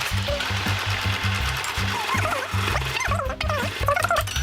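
Sewing machine stitching around a square corner of a fabric tote bag, a loud, close mechanical whir in repeated short bursts with brief stops, while faint high squeaky chirps sound in the background.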